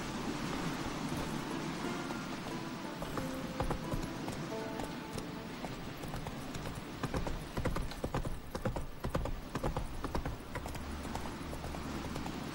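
Horse hooves galloping in The Witcher 3 video game, a continuous rapid clip-clop rhythm over an open outdoor ambience, loud and steady throughout with a faint whinny.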